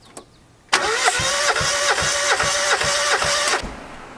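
Car engine cranking over on the starter at full throttle during a dry compression test, a steady rhythmic chugging of about eight pulses lasting nearly three seconds, close and loud, then stopping abruptly.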